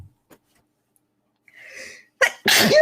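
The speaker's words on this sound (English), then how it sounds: "Sorry. I might sneeze." A single loud sneeze with a sharp intake of breath before it, close up, with no talking.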